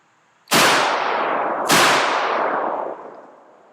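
A TR Imports EVO-BT 12 gauge bullpup shotgun with an 18.5-inch barrel fires two loud blasts about a second apart outdoors, each with a long, rolling echo that fades slowly afterward.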